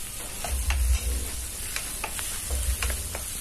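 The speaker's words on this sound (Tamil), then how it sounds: "தக்காளியும் எண்ணெயிலே வதக்கலாம்." Chopped tomatoes sizzle and fry in hot oil for a drumstick leaf kulambu, with steady crackling and intermittent stirring scrapes, close and moderately loud, no talking.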